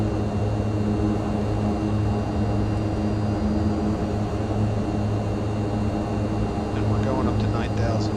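A Mitsubishi MU-2 turboprop in Microsoft Flight Simulator drones steadily in flight, a loud continuous engine and propeller hum with tonal whine, unbroken throughout.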